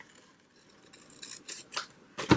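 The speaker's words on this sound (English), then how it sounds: "I can cut that off." A pair of scissors snips through paper while journaling, a few quiet close cuts that grow louder, ending in one sharp, crisp snip.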